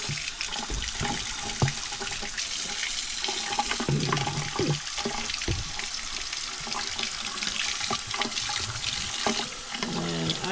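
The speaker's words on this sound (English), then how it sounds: "I'm just going to put some water in" Lukewarm water runs from a kitchen tap while a sourdough starter is being made, a continuous splashing stream close by with a few clinks between.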